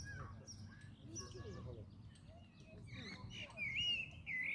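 Bird calls ring out in short chirping phrases that grow louder and sharper toward the end, over a steady low background rumble.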